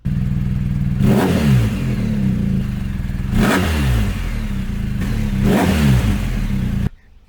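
A BMW R1250R motorcycle with a shortened slip-on exhaust idles with a steady low rumble, then revs three times at regular intervals, each throttle blip loud and close before the engine cuts off near the end.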